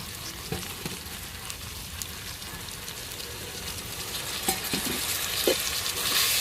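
Tomatoes and onions sizzle in a hot pan as chilli, turmeric and sambar powders are stirred in, with a steady frying hiss and occasional scraping knocks of the spoon, and no talking.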